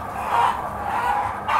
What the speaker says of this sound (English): It's so cruel to keep all of these roosters in with these hens